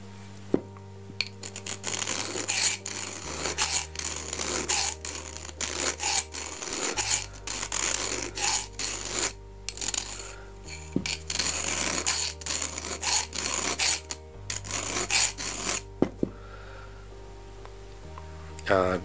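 Scissors being sharpened with a file give repeated gritty rasping strokes in short bursts, close and fairly loud, with a steady electronic hum underneath.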